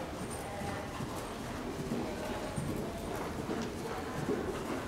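Pony hooves walking around a riding arena, a steady, faint clip-clop of footfalls under a broad hiss of outdoor background noise, with no talk heard.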